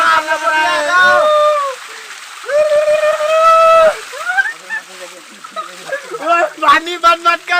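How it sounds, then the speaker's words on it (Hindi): Water splashes at Lokhimijuri waterfall beneath loud, lively shouting and talking from people nearby, with bursts of splatter and gurgle running through the noise. "लक्ष्मीजुरी वाटरफॉल्स है।"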